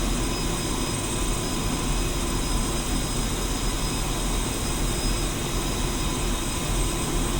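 A Ka-50 Black Shark helicopter in Digital Combat Simulator taxis with a loud, constant turbine whine and rotor rumble, steady and close with no talking.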